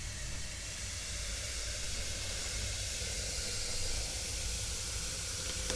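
Descaling solution for a washing machine, about 200 millilitres, fizzes and foams in a steady, continuous hiss that holds at an even level with no pauses and no voices.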